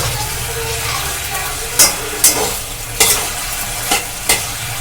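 Chicken being stir-fried in a pan, a loud constant sizzle broken by five sharp spatula scrapes spaced roughly half a second to a second apart, close and clear with no voices.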